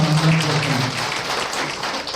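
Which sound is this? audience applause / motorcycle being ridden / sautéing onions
audience applause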